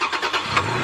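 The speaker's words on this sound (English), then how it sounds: "you turn the truck on and just double check it." Engine of a 2020 Toyota Tacoma pickup truck turning over, a loud, close, brief rumbling burst that swells once before settling, with no voices.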